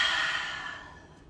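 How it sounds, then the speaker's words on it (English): One long open-mouthed exhale during a vinyasa yoga practice, a close breathy rush of air fading gradually over about a second, with no speech. "Open the mouth widely, breathe out on your exhale."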